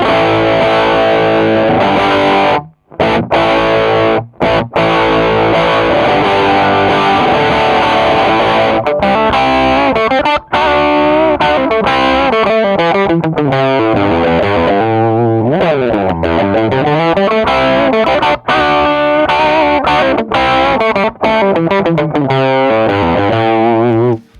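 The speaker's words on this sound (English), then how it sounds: "It sounds tube-ish, but like a very overdriven tube amp." Heavily distorted electric guitar through a DIY amp built from pedals plays chords and sliding notes through effects, loud and continuous with a few brief gaps.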